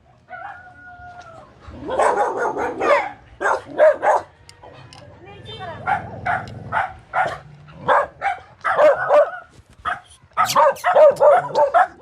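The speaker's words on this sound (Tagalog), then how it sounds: "May aso. Baka may aso." A dog barks several times close by, the sharp barks mixed in with people talking.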